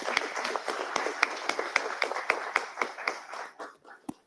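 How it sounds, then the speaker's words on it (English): Audience applause for awardees at a conference opening and award ceremony in Morocco: a run of sharp, evenly spaced claps over a light crowd wash, fading out toward the end. "Let us all join in a round of applause to celebrate their success."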